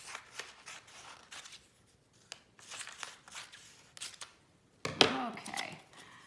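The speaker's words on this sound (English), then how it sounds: "I'm going to take this little muskox picture that I've got, and I'm going to cut it" Scissors cut a small paper muskox picture into strips for a shoebox weaving loom, giving quiet, close snips and crisp crunches in uneven bursts with brief pauses, then one sharper clack near the end.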